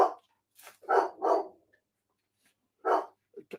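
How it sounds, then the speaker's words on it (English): A dog barks in a few sharp, close bursts, two quick barks followed by another after a pause, with a brief yip at the end and no talk over it. "No, he's too busy barking."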